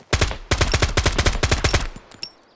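Full-auto rifle fire in the video game Road to Vostok, two rapid bursts of evenly spaced loud close shots, the second burst longer, trailing into a brief ringing tail.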